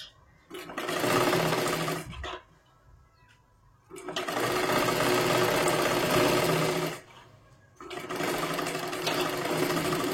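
Domestic sewing machine stitching a strip on a katori-style blouse, running in three steady bursts with short pauses between them, close and fairly loud, with no talking over it.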